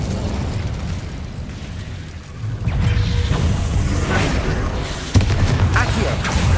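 Incendio fire spell cast during Hogwarts Legacy gameplay: a steady roaring, crackling burst of flame with a sharp flaring pop partway through, loud and continuous.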